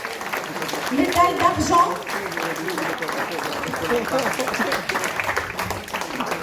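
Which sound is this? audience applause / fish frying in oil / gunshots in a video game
audience applause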